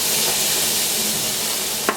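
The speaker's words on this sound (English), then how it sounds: "That'll get these to sweat while they're cooking down and softening up." Celery, carrots and onions sizzling in a pan while they soften for a chicken, sausage and bean cassoulet, a steady close crackling hiss with a faint clink near the end.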